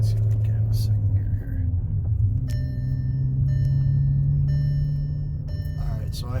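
A 2012 Volkswagen Beetle drives along with a steady low engine and road rumble, shifting into second gear, while faint dash beeps chime now and then.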